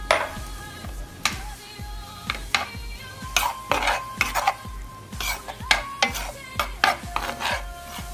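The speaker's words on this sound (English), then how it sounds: "add 1 cup of artichoke hearts and stir well until it is sazon" A spoon stirs artichoke hearts through mac and cheese in a pot, with repeated scraping and clinking strokes against the metal in an uneven rhythm, close and moderately loud.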